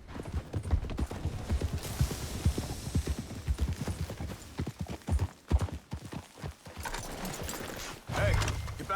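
Steady clip-clopping horse hooves trot along under overlapping voices in the video game Red Dead Redemption II, with a brief whinny-like burst near the end.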